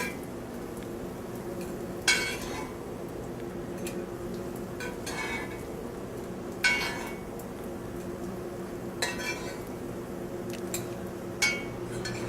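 A metal spoon clinks against a hot pan every few seconds while gambas are lifted out, sharp isolated taps over a low, steady kitchen hum.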